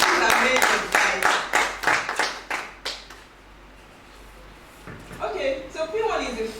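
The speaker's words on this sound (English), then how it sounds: "Please, let's clap for chairman" An audience claps for a chairman at a business opportunity expo for a real estate network marketing company, a burst of rhythmic clapping that fades, followed by a speaking voice.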